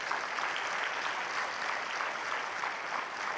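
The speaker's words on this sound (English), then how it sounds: "give this team of professionals a big round of applause" Graduation audience applause for a team of professionals, steady, dense clapping from a large crowd, distant and even throughout.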